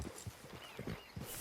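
Horse hooves clip-clop at a steady walking pace in the Red Dead Online video game, several distinct thuds spaced evenly and fairly close, with a faint high ambient hiss behind them.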